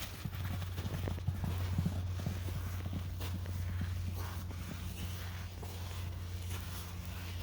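Hooves clip-clop steadily as horses walk along, with a continuous low hum in the background.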